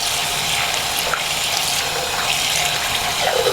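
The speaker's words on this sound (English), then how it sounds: "Stop the water, drain it out." Water running steadily from a tap as yarn is rinsed in a sink, a constant loud close splashing rush with no talking.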